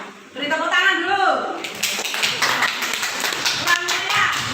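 Classmates clap together in a classroom, a burst of close, uneven hand claps starting shortly after a teacher's voice and continuing under scattered chatter.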